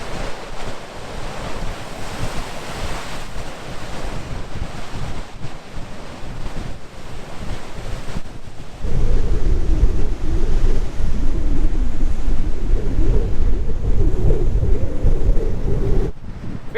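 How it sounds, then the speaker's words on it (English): Heavy ocean surf crashes and roars continuously, mixed with strong wind buffeting the microphone, growing louder partway through. "We came to see the big waves here in the playa."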